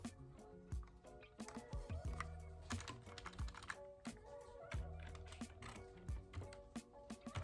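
Soft-sounding black computer keyboard typed on quickly and continuously, a dense close-up clatter of keystrokes with occasional heavier thumps of larger keys, no voices.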